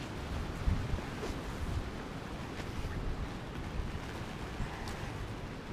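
Strong, steady wind gusts across a fishing lake, giving a continuous dense rushing roar with buffeting against the microphone and no talk.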